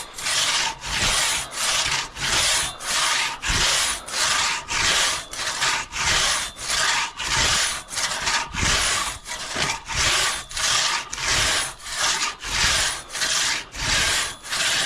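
Cross cut saw cutting through wood in steady back-and-forth strokes, about two per second, rasping close up with no talk.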